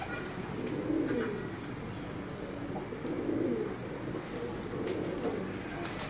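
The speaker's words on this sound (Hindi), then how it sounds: "बड़ा अच्छा कबूतर है, बड़ा रिजल्ट देने वाला कबूतर है।" Pigeons coo in a repeating rhythm of soft, throaty phrases, three or four swells over a steady low background hum, at moderate loudness and fairly close.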